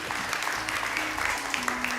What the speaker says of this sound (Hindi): बहुत सारी तालियां इन लोगों के लिए, बहुत सारी तालियां